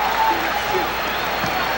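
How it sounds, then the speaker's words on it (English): A basketball arena crowd at a 1992 NBA playoff game between the Knicks and Pistons reacts to a hustle play, a steady wash of cheering and applause filling the whole moment under faint commentary. "Charles Oakley hearing it from the crowd for the hustle"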